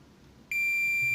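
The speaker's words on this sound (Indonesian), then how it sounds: "Oke, kita pakai buzzer." A steady high-pitched electronic buzzer tone used to test a Theben timer's relay contacts switches on abruptly and holds continuously over faint background noise.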